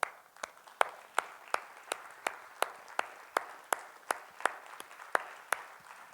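A singing competition crowd claps in steady unison for an arriving contestant: sharp, evenly spaced claps at a brisk regular beat, about sixteen in a row, fairly close and with no voices over them.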